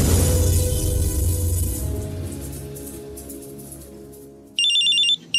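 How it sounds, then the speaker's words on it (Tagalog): A cellphone ringtone for an incoming call cuts in near the end as a bright, repeating electronic tone, loud and close, after a fading noisy wash of sound with no talk. "May tumatawag sa cellphone ko."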